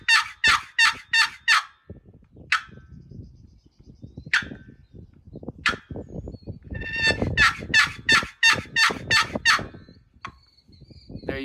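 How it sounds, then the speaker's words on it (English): Wooden turkey box call run softly with full lid contact, giving repeated clucking and yelping series of short bursts, close and clear with quiet gaps between them, no talking. "so that way I'm maximizing the sound of my call."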